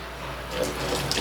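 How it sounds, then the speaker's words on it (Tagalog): Very hot water runs from a faucet in Saudi Arabia, a soft steady splashing flow that grows slightly louder partway through, heard close with no speech. "Ayan ang gripo."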